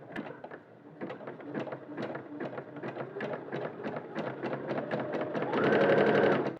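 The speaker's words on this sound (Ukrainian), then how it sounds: "І ставлю ще горизонтальну закріпку на фестон." Sewing machine stitching a horizontal bartack onto a scalloped edge of a garment, a rapid run of close, even needle strokes that grows louder and denser toward the end, heard alone without talk.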